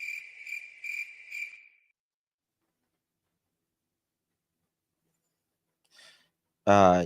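Crickets chirp as a sound effect in a quick run of four evenly spaced, bright trills that stop abruptly, followed by near silence and then a burst of voice at the end.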